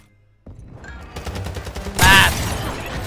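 An OG pump shotgun fires in the shooter game Warzone: a rapid string of sharp gunfire cracks, then one louder, heavier blast toward the end, with no talk over it.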